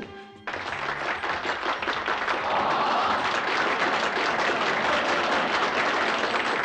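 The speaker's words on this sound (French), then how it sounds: "Pour applaudir la grande Zaza Napoli" An audience applauds the drag revue star Zaza Napoli, dense clapping that breaks in sharply after a brief moment and holds loud and steady to the end.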